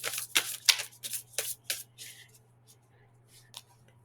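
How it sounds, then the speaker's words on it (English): New playing cards being shuffled by hand, a run of quick, close riffling and snapping bursts that thin out into softer, sparser flicks, with faint background hum. "These are kind of new cards, so they're kind of sticking together."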